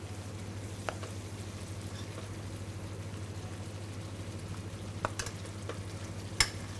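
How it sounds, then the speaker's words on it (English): Butter melting into heated butter chicken sauce while being stirred gives a faint, steady sizzle, with a few soft clicks of the spoon against the pan. "Make sure you keep stirring this until the butter is completely melted."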